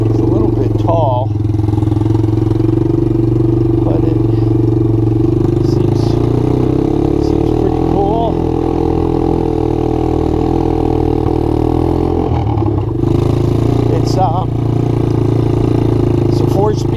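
Suzuki LT80 ATV fitted with a 125cc Kymco engine runs steadily at a loud, close, even drone with a rattly mechanical clatter, while a voice talks over it throughout.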